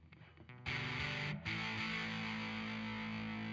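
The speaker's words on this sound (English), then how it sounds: "this is a pretty aggressive sounding distortion pedal" Harsh, heavily distorted Godin A6 Ultra acoustic guitar chord through a distortion pedal rings out loud and sustained after a few muted plucks, with a brief dip before it swells again.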